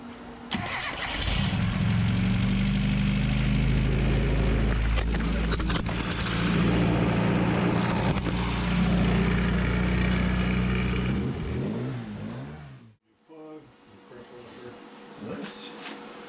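A car engine on a Hornet track car cranks over, catches and runs loud and close, revving hard in repeated bursts for several seconds before cutting off abruptly, with people talking faintly afterward.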